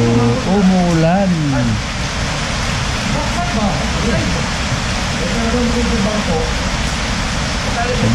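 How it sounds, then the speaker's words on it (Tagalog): Rain falls steadily, a dense hiss continuing throughout while someone speaks over it. "umulan"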